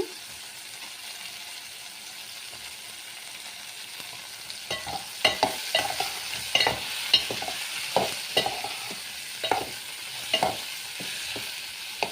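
Drumsticks (moringa pods) and green chillies frying in a pan, a steady close sizzle broken by repeated scraping stirs and clinks through the second half, with no talking.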